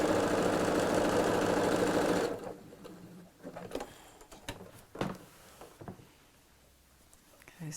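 A sewing machine runs a quarter-inch seam around the curve of a fabric bag, a loud steady whirring burst for about two seconds that then stops, leaving quiet handling clicks and faint rustles.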